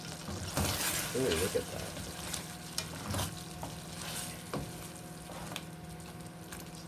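A spoon works jarred tikka masala sauce through microwave rice, making soft wet scrapes and a gentle simmering sizzle with irregular knocks against the pan, and a voice briefly speaks over it.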